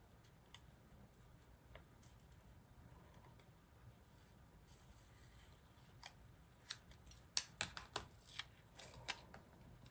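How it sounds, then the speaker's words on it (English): Scissors snip through paper during a planner-decorating session, quiet at first, then a run of sharp close cuts and rustles toward the end with no voices. "Let's cut the bottom of it off."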